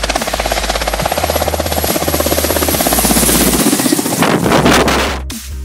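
A US Army Apache attack helicopter of the mid-1980s flies by with a loud, steady rotor chop and engine roar that holds for several seconds, then drops off abruptly at the end.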